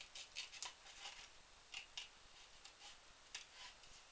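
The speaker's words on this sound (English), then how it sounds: "Getting a good pair of paper scissors and fussy cutting around the outside edge of that beautiful scalloped" Paper scissors fussy-cut around a scalloped paper border for a Stampin' Up Christmas Pines card, a run of faint, close, crisp snips and rustles with short gaps between them, no voices.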